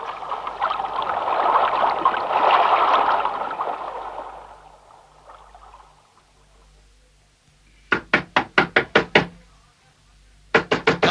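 Rapid knocking on a wooden door in a Hindi radio drama set aboard a river barge during a robbery: a burst of about seven sharp knocks follows a fading swell of rushing noise, then a second short burst of raps.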